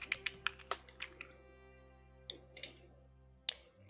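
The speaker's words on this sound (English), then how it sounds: "type in some flowers or something." Typing on a computer keyboard while entering text, with quick bursts of crisp key clicks, a pause with a sustained tone in the background, then a few more keystrokes.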